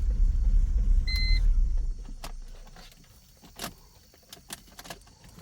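A salvage BMW X3 engine rumbles loudly for a couple of seconds, then fades away, leaving scattered metallic clicks and jangling keys.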